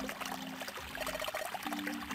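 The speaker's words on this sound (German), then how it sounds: "Wasser füllt sich." Water pours steadily into a basin from a faucet in the video game Zero Escape: 999, a continuous trickling, splashing stream at moderate volume with a low hum underneath and no talking.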